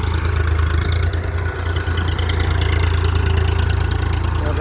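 A tractor engine runs steadily during millet sowing in a field, a continuous loud low idling drone with no pauses and a slight dip midway.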